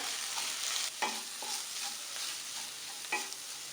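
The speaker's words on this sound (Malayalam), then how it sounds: "ഇത്രയും ചേർത്ത് നമുക്ക് ചെറുതായിട്ടൊന്ന് വഴറ്റി കൊടുക്കാം." Chilli, fennel and coriander powders sauté in a hot pan for a kurma curry, with a steady soft sizzle broken by light scraping stirs of a spoon, close by and alone.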